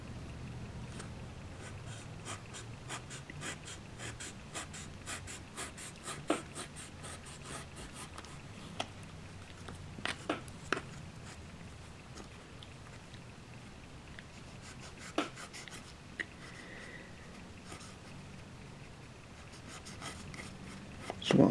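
A blade scoring and cutting through card for a model railway station building, quiet scraping strokes with a few sharp clicks and taps over a faint background hum.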